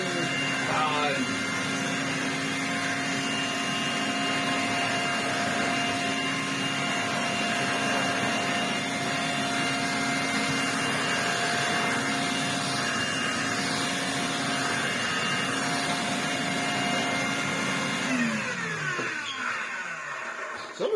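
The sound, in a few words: Electrolux Z504 vacuum cleaner running on stiff rug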